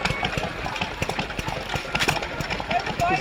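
Vintage stationary engines run at a classic car show, a rapid, irregular chuffing and knocking beat close by, with outdoor crowd noise and voices mixed in.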